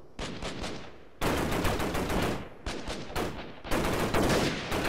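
Rapid volleys of gunfire crack and rattle in bursts during a Freeman Guerrilla Warfare firefight, loud and close, with several dense automatic-fire stretches separated by brief gaps and no talking.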